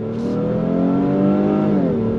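A 2025 Honda Pilot Black Edition SUV with a 10-speed automatic pulls hard under throttle, its engine drone rising steadily and holding loud and close from inside the cabin.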